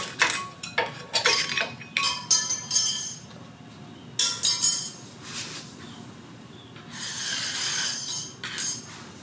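Metal hardware clips are pried off a front brake caliper on an Equinox, giving a series of light, sharp metallic clinks and rattles in quick clusters, close by, followed by a longer scraping jingle.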